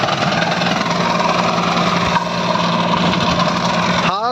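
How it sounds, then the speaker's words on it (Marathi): A Massey 9500 Smart 4WD Super Torque tractor drives a banana tree mulching machine at a field demo, giving a steady, loud, close engine drone with mechanical vibration throughout and a brief rising whine near the end. "आज आपण सालमोकवाडीमध्ये केळी कटरचा डेमो चालू आहे"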